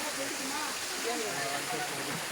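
Kumbakkarai waterfall in Theni, in the Western Ghats, roars as a continuous, loud hiss of rushing water that fills the whole moment. A voice talks over the steady flow.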